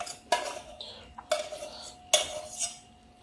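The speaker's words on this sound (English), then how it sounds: "Then of course you've got to scrape out all these extra things, and don't forget to scrape out the caramel" A metal spoon scrapes caramel from a custard dish in three distinct close, ringing clinks and scrapes spaced about a second apart, with quieter rubbing between them; no voices.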